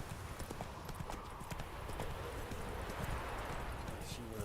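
Rhythmic hoofbeats of a horse galloping in The Witcher 3, steady clip-clop close up over the game's ambient sound, with a voice speaking over it.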